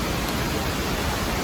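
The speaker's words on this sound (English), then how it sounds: "that waterfall down there, the Nehan waterfall" The Nehan waterfall at Kegon Falls, heard from a distance as a steady, even hiss of rushing water with no other sounds.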